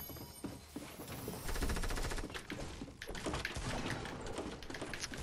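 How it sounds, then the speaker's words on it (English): Gunfire in the video game Fortnite rattles in dense, rapid automatic bursts and overlapping shots, loud and nearly continuous across the clip. "I got a gun."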